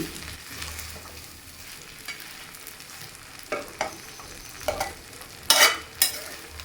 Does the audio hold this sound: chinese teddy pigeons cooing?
no